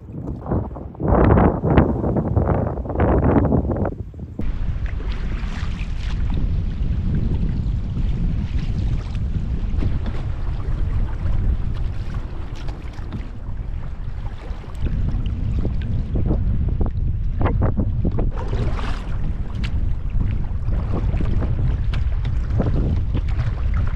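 Wind gusts across a Scottish loch in winter as a kayak or canoe paddles into a headwind, a loud sustained rush of wind noise on the microphone with brief louder paddling and water sounds at the start.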